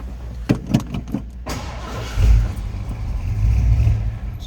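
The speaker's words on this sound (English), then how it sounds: "Let's go ahead and start it up." A 1983 Ford F150 regular-cab short-box 4x4 pickup turns over in a few separate cranking bursts, then fires and settles into a loud, rumbling idle close by.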